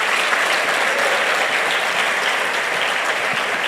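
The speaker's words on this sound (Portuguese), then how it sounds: "Quem pode dar um aplauso pela obra da cruz?" A church congregation applauds after a sermon line, a dense, steady burst of many hands clapping that fills the whole stretch at even loudness.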